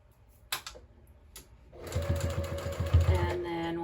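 Sewing machine stitching a patchwork receiving blanket, starting after a few clicks and handling sounds into a steady rapid whirring run with rhythmic needle thumps, close and clear.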